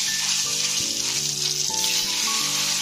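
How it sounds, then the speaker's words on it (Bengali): Eggs fry in hot oil beside a pot of cooking rice, with a steady, close, bright sizzle and crackle carrying on without a break and no voices over it. "ডিমগুলো ভেজে নেব ভালো করে"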